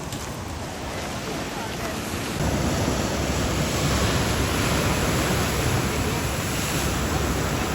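Ocean waves along a footpath to the shore in Maine at evening, a loud, continuous surf roar with wind buffeting the microphone, growing heavier partway through.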